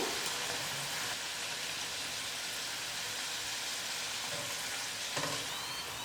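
Poori frying in hot oil makes a dense, continuous sizzle with a brief bubbling surge near the end as it is flipped.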